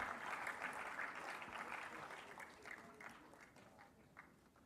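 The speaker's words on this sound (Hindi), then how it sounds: "ये तालियां उत्तम सिंह जी के लिए हैं" A crowd at an Uttar Pradesh sports award ceremony applauds a hockey bronze medallist, the clapping steady and moderately distant, slowly thinning and softening over a few seconds.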